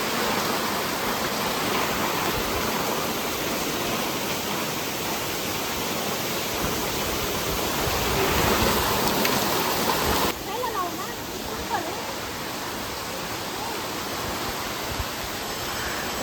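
Water of the Antaragange spring at a temple pond flows with a steady, broad rushing wash, continuous and fairly close, with no speech over it.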